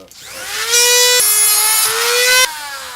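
A rotary power tool cuts a tungsten welding rod to length, held in a clamp, with a loud steady high-pitched whine that rises in pitch and runs about two seconds before stopping abruptly.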